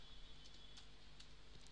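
Quiet, sparse keystrokes on a computer keyboard, a few soft clicks spaced irregularly over a faint steady hum, close but low in level.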